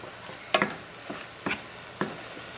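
A spoon scrapes and stirs cooked shrimp in butter and garlic seasoning, giving four separate clinking scrapes about half a second apart over a faint background sizzle, close and with no talking.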